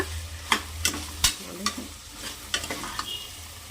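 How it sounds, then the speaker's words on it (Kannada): Vegetables and beans frying in a pan, a steady close sizzle broken by sharp stirring scrapes and clinks at irregular intervals, with no voices. "ಇದೆಲ್ಲ ಚೆನ್ನಾಗಿ ಫ್ರೈ ಆಗಿದೆ ಸ್ನೇಹಿತರೆ ತರಕಾರಿ ಕಾಳೆಲ್ಲ"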